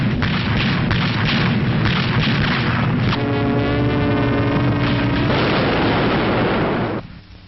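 Anti-aircraft guns firing in archival World War II footage, manned by Home Guard, ATS women and American crews: a steady barrage of heavy booms and rapid bursts, loud and dense, fading out abruptly at the end.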